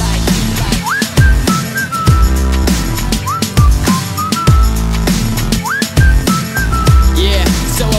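Melodic human whistling rides over a chill trap beat, short rising and falling whistled phrases repeating every few seconds above heavy bass and crisp drum hits.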